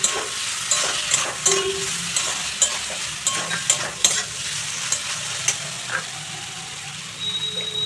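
Fried okra being stirred with spices in a pan, a close sizzle broken by quick irregular scraping and tapping of a spoon, fading toward the end.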